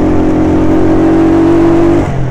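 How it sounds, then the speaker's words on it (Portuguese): A motorbike engine revs steadily and loudly with a sustained droning tone, then drops back toward idle near the end, heard up close and without speech. "Eu tô achando minha moto mais barulhenta hoje."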